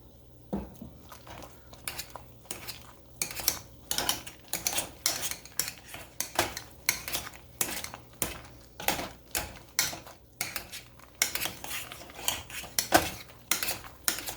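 Idaho potatoes are mashed by hand in a bowl as milk goes in, giving a long series of rhythmic clanks and scrapes of a metal masher against the dish, close and clear with no talk.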